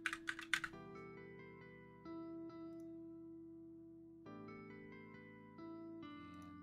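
A quick cluster of keystrokes on a computer keyboard clatters at the very start, then gives way to a quiet, steady electronic hum with soft tonal shifts.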